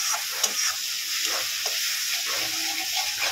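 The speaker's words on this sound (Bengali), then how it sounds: "কাঁচা লঙ্কা আর কাজু কিশমিশের পেস্টটা দিয়ে দেব। ভালো করে সবগুলোকে একসঙ্গে কষিয়ে দেব।" Green chili and cashew-raisin paste frying and being stirred for egg korma over medium-low heat: a steady close sizzle broken by repeated scraping stir strokes, with no talking.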